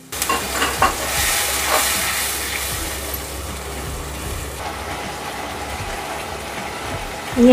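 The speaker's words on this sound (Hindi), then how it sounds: "ये हमारी प्याज कुछ हद तक भुन गई है।" Ground onion paste frying in a pan for dal makhani, a steady close sizzle with stirring scrapes carrying on throughout, strongest in the first few seconds.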